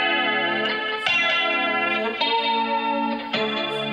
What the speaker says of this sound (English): Here the sound gets bigger, and then you put the compression.